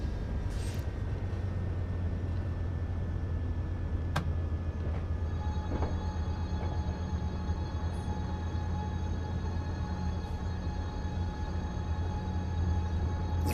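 EMD F125 Metrolink locomotive running in Train Sim World 4, a constant low engine rumble with steady tonal hums, a few faint clicks and a brief higher whine, and no voices.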